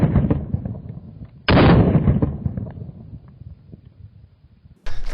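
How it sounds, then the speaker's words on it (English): Loud gunshots fired at a Level IV armor plate from a rifle with M855 rounds, a sharp booming shot followed by a long echoing decay, then a second blast at the end. "gonna shoot both of these rounds and see what happens."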